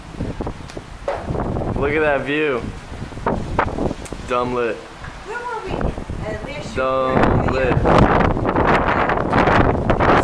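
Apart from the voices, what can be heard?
wind blowing outdoors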